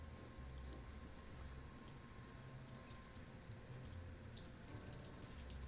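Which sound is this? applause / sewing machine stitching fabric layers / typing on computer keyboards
typing on computer keyboards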